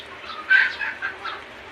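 Pet chickens cluck in a few soft, short bursts at moderate distance against a quiet backyard background, with no talking.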